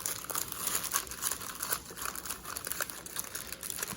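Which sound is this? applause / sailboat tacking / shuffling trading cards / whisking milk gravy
shuffling trading cards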